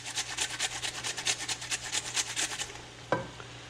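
A chunk of potato rubbed over a handheld cheese grater above a frying pan while making a meat pie, giving a rapid run of close, even rasping strokes for about two and a half seconds, then a single dull knock.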